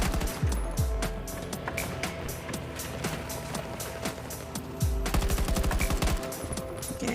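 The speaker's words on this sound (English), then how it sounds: "So if I shoot my gun..." Gun shooting in the shooter Battlefield MMXLII: a long, loud run of rapid automatic fire with a few heavy bass thumps, a short lull, then another dense, close burst.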